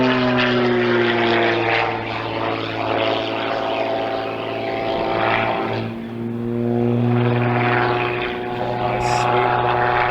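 An aerobatic propeller plane flies a freestyle display, its engine droning loud and steady with pitch shifts as it swoops, rising and dipping, while a commentator talks over it.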